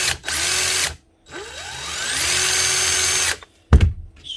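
A Dewalt cordless impact driver under repair whines up close in two long runs, its pitch climbing as it spins up, then cuts off with a short clunk at the end.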